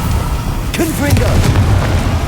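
Confringo spell in Hogwarts Legacy lands with loud booming blasts, a deep rumbling explosion followed by crackling bursts and a brief voice-like wail mixed into the game noise.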